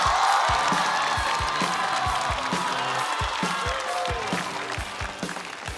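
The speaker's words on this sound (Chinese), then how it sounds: "掌声欢迎翟佳宁。" Audience applause at a stand-up comedy show welcomes the next comedian onstage, a steady close wash of clapping with a few scattered cheers that fades slightly toward the end.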